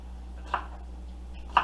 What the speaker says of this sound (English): just chopping up my bell peppers